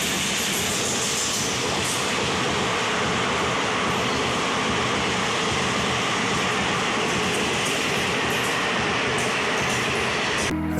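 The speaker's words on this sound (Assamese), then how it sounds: "এতিয়া এখন ট্ৰেইন আহি আছে" A train pulls into Dhal Purkhuri railway station in Assam, its loud, continuous rumble of wheels and carriages filling the whole stretch with no pause.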